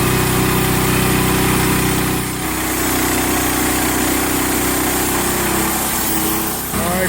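A Hud-son Patriot portable sawmill engine runs loud and close as it cuts a 10-inch-wide board during a sawmill competition, a steady high-revving drone that dips briefly partway through, then pulls on under load.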